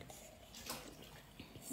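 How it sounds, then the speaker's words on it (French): A child blowing bubbles into a drink through a straw, faint soft gurgling and bubbling in a quiet room. "Sacha, c'est toi qui fais des bulles?"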